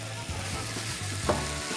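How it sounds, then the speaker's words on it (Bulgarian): Chopped tomatoes tipped into hot olive oil in a pan sizzle steadily while a utensil stirs and scrapes through them in a few close strokes. "И сега директно с зехтинчето изсипвам доматите вътре."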